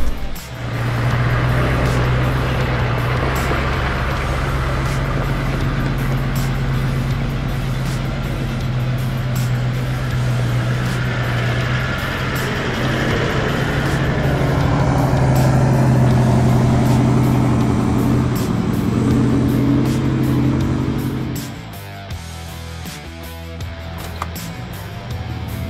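A car engine cruising steadily at about 1200 RPM on a drive up toward Mount Singleton, a loud continuous low drone with road noise that holds for about twenty seconds before dropping away sharply.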